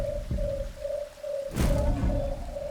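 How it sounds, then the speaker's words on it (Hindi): A nocturnal bird calls in the jungle, a steady repeated hooting note in an even rhythm over a low background hum, broken midway by a brief rushing noise. "ये पक्षी तो निशाचर पक्षी नहीं?"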